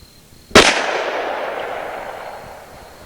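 A single loud handgun shot from a 4 inch barrel, a sharp close crack followed by a long decaying echo that fades over a few seconds.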